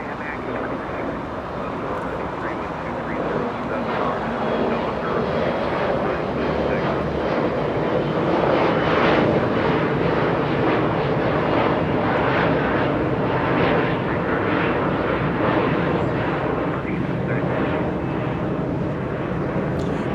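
Airliners at Los Angeles International Airport, a long roaring jet engine noise swelling and fading as a plane passes, loud and continuous across the whole stretch.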